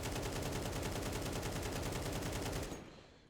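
Counter-Strike rifle fire on the Nuke map, spraying bullets through a wall: a rapid, steady stream of close, loud shots for nearly three seconds that stops abruptly and fades into silence.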